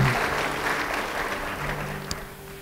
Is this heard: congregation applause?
yes